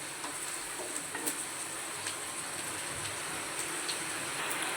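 Onions crackle and hiss softly in a hot pan while being stirred, a steady close sizzle with faint scraping and no voices.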